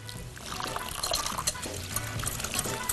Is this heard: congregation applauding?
no